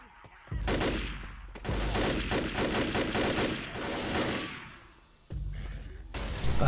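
Rapid bursts of gunfire from the zombie shooter Left 4 Dead, loud and close, with dense repeated shots over about four seconds, a short lull with a thin ringing tone, then more firing at the end.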